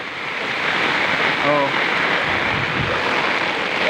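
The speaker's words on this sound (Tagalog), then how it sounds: "Baha na rito sa aming harapan. Ayan, puro tubig na siya." Typhoon flood water in front of a house, a constant loud rushing wash with wind noise over the microphone, and a short voiced exclamation in the middle.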